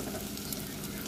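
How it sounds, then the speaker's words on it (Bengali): Onions and garlic frying in a pan for dal, a steady close sizzle with constant broadband crackle and no pauses, no talk over it. "পেঁয়াজটা ভাজবো।"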